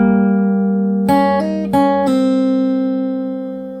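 A sustained fingerstyle guitar chord rings first, then four quick plucked melody notes from a song sound over it before fading, intimate and clear with no voice.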